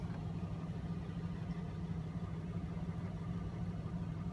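A Nissan Titan engine idles with a steady low rumble and hum, close and continuous, with no voices.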